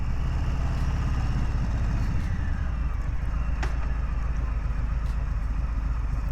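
A 2020 Harley-Davidson Softail Street Bob twin-cam engine pulls under acceleration, a loud, steady low rumble with rising pitch against constant wind noise.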